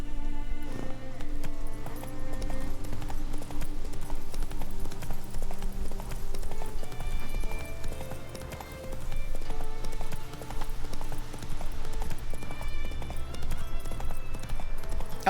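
Roach, Geralt's horse in The Witcher 3, gallops on in a steady rhythm of clip-clopping hooves over game music, with an occasional whinny.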